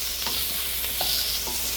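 Onions frying in a pan while a vegetable curry cooks, with a steady close sizzle and a few soft stirring scrapes, no one talking.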